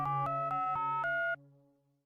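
A telephone ringtone plays a short bright melodic pattern of repeated electronic tones for about a second, then cuts off and fades away.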